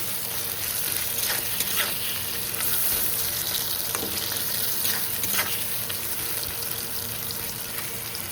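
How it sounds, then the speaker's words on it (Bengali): Whole garlic cloves with cumin and ginger paste fry slowly in a pan over low heat, giving a steady, close hiss of sizzling oil with a few soft stirring clicks. "এই গোটা রসুনও দিয়ে দেবো, জিরা আদা বাটা দিয়ে দেবো। নিভা আছে, ধীরে ধীরে ভেজে নেব"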